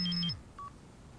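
A cellphone dialing: a quick run of steady electronic keypad tones, then a low tone that drops off and a single brief higher beep, clear and close in an otherwise quiet space.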